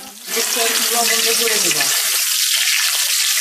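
Chicken frying in a pan on an Eid morning, a steady broadband sizzle running loud and continuous under a brief stretch of talk near the start.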